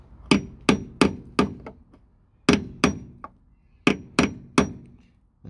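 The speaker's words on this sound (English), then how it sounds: "So I'm just using a hammer and I'm going to tap down" Sharp metallic hammer taps fold sheet metal down on a damaged Toyota Alphard sill, struck close and loud in quick runs of about four, then three and three, with short pauses between runs.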